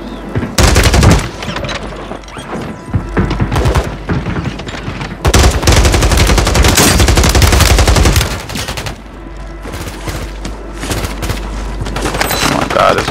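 Video game gunfire from Call of Duty Warzone on Rebirth Island: loud, dense automatic bursts and booming shots fire almost continuously, with a few brief dips, and a voice talks over the shooting.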